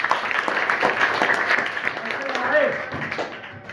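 A classroom audience of students at a secondary school in Kerakat, Jaunpur, claps in a steady, moderately loud patter of hand claps, with talk mixed in.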